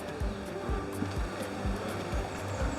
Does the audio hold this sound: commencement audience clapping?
no